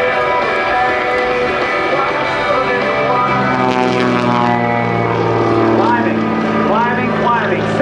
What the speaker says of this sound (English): Climbing, 600, 700, 750 feet above the ground, rolls the airplane upright and continues out to the left.